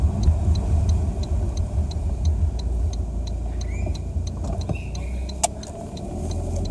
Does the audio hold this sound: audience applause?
no